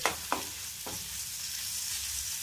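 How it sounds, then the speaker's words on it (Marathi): Bombil fish being fried in a masala mixture, with a steady close sizzle and a few sharp scraping stir strokes near the start. "आता हे बोंबील आपण या मिश्रणामध्ये घालूया आणि मस्त मिक्स करूया."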